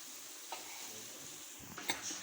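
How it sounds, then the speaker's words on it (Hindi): Chicken masala spooned into a hot kadhai for a creamy Mughlai chicken malai handi, a short close burst of sizzling and frying with a couple of metal spoon clinks toward the end. "अब यहाँ से माँ जी इसको चम्मच की मदद से अब इस कढ़ाई में ऐड कर रही हैं"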